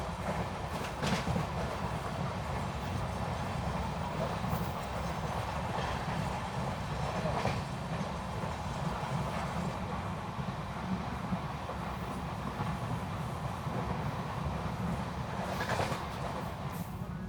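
A late-running Nizamuddin–Ernakulam Mangala Lakshadweep Superfast Express rolls steadily past on rails at Balli station, a continuous loud rumble with faint rhythmic wheel clatter throughout, no voices.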